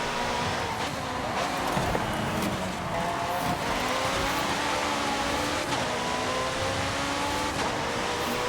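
A McLaren 650S in Forza Horizon 5 accelerates hard and steadily, its engine tone climbing through the gears with brief shift dips, loud and continuous with no talking over it.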